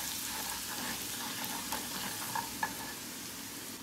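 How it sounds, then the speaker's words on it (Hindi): Chopped masala for dhaba-style aloo gobi roasts in hot oil, giving a faint, steady sizzle with a few soft ticks and no talk. "इसमें मैं डाल दूंगी हमारे चॉप मसाले, और इसको हल्का सा पिंक करने तक हमने इसको भूनना है।"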